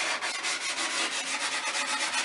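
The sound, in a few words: sandpaper smoothing the cut edges of a wooden bagatelle board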